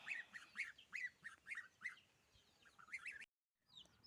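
Repeated nasal quacks from a Muscovy duck hen leading ducklings, roughly two per second, fairly close, with a brief silent gap before another faint call at the end.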